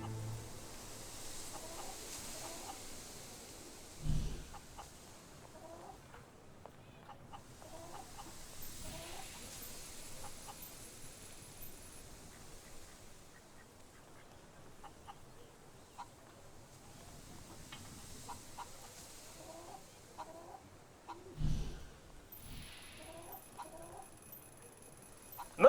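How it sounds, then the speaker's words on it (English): Chicken clucking in the video game Fable 3, soft scattered clucks and short calls repeating over a quiet ambient game background, with a couple of louder thumps partway through. "Mr. Cluckles comes from a long line of chickens"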